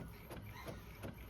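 An Epson ET-8550 printer's tray opening and sliding out, a faint steady mechanical whir with soft rhythmic clicks, quiet and close with no voices.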